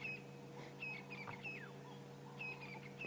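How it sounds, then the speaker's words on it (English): Birds call at sunrise on a misty winter morning on safari, thin chirps and short whistled notes scattered over a low rumble, faint and distant. "You can hear the dawn chorus, all the birds starting to wake up."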